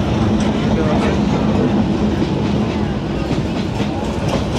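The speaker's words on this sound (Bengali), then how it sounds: "এই দেখুন ট্রেন যাচ্ছে বাজারের মাঝখান দিয়ে।" A local train passes through a busy poultry market, a dense steady rumble and clatter of rolling wheels heard close and loud throughout, with faint market noise underneath.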